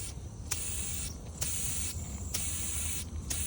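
Compressed air blows out of a sprinkler line during a system blowout, a steady hiss broken by sharp, brighter bursts of spraying air roughly every second, close and fairly loud with no talking.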